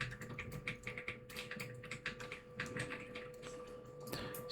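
Typing on a computer keyboard while entering a missing DLL file name, rapid uneven clicking taps close up over a faint steady electronic hum, with no talk.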